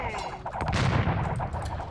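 Bombard cannons firing in Age of Empires-style naval battle gameplay: a cluster of rapid, booming blasts layered over ongoing battle clamor, loud and close, without speech.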